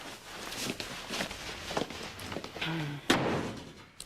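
A door is shut indoors in an office during a soap opera scene, closing with a firm, sharp thud after soft footsteps and faint movement.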